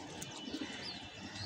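Pigeons let out faint, soft coos against a low, noisy background, the calls brief and scattered across the moment.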